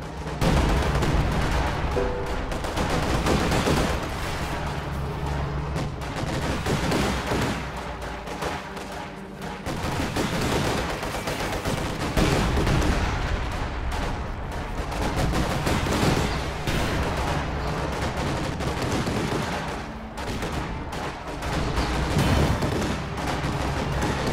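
Sustained video-game battle gunfire, dense bursts of rifle and machine-gun shots with occasional heavier booms, loud and continuous throughout with no talk.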